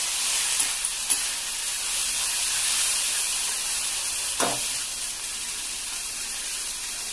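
Cut cashew fruit pieces sizzle steadily in a hot pan over lowered heat, a continuous close hiss broken by a few soft clicks and scrapes from stirring.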